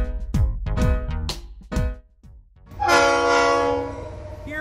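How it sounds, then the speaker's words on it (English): A cartoon-style train in a children's nursery rhyme song, with a few bouncy chugging hits followed by a loud, sustained horn blast that is close and full. "Here comes the number train."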